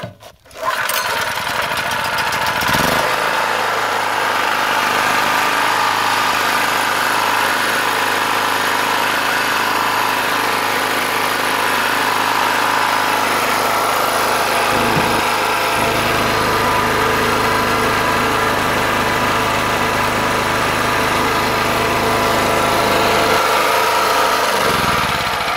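A small petrol generator found at a tip is pulled into life with a brief sputter, then runs loud and close with a steady buzzing drone and slight wavering in pitch for about twenty-five seconds.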